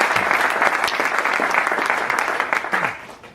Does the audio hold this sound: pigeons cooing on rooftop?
no